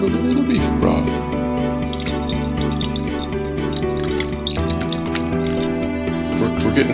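Beef broth is poured into a pan in a home kitchen. The liquid splashes and drips steadily over a constant tonal background.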